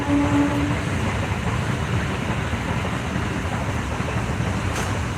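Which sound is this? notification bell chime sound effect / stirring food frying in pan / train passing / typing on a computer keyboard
train passing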